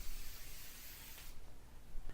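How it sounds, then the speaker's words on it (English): An aerosol spray can hisses over baking dough in a kitchen, a soft continuous spray of faint steady hiss lasting a couple of seconds with no talking. "Spray it all over."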